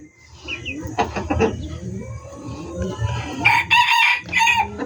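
A rooster crows several times close by, loud bursts standing out over background clucking and farmyard noise.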